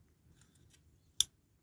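A ratchet mechanism on a restored 1969–75 Dinky toy Ford Transit fire service van gives a single sharp, close click after faint fiddling noises.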